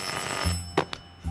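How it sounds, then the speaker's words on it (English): A telephone rings as a sound effect in a radio drama, a short bright ring followed by a few sharp clicks against a low hum, close and moderately loud. "at long last, the phone rang"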